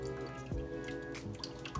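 Whole milk, then a can of evaporated milk, pours into a Southern macaroni and cheese mixture, giving a steady trickling, dripping liquid sound up close with small splashes.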